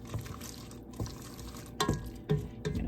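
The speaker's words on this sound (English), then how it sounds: "I'm just gonna stir, stir, stir, stir, stir." A spoon stirs a milky mixture in a cooking pot, making soft, irregular scraping and sloshing strokes that are fairly quiet and close, with no voices.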